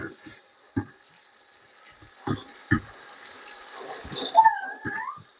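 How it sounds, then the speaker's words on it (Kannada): Tomato, coriander powder and onion paste sizzle in a hot pan for bamboo biryani gravy, a soft steady frying hiss broken by a few sharp spoon knocks against the pan. "ಈಗ ಟೊಮೆಟೊ, ಧನಿಯಾ ಪುಡಿ ಮತ್ತು ನೀರುಳ್ಳಿ ಪೇಸ್ಟ್ ಇದಕ್ಕೆ ರೆಡಿ ಹಾಕುವುದು. ಈಗ ಹಾಕಿ ಮಿಕ್ಸ್ ಮಾಡಬೇಕು."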